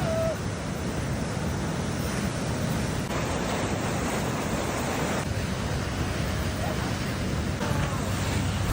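Steady roar of surf and rushing water where a forceful channel cuts straight through a beach into the ocean, breaking waves blending with wind into a dense, continuous wash.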